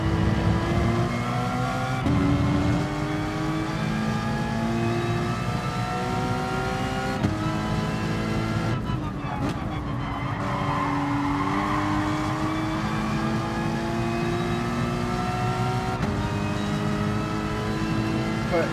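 A car engine in the racing game GT Sport drones steadily with shifting revs and gear changes, a brief tire squeal or skid midway, while a person talks over it throughout.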